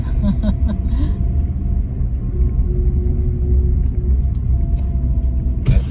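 A car with a 1200 cc engine driving uphill toward Phu Ruea National Park, a steady low engine rumble with road noise throughout, heard from inside the vehicle.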